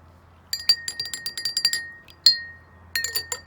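A spoon stirs food coloring into a glass of water, giving a quick series of bright ringing clinks against the glass, a short pause, one sharp ting, then another rapid burst.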